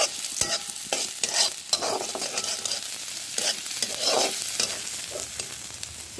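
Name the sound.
onions frying and being stirred in pan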